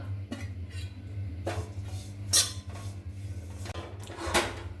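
Roasted dry coconut being scooped out of a pan with a spoon: several light metallic scrapes and clinks over a low kitchen hum, close and moderately quiet.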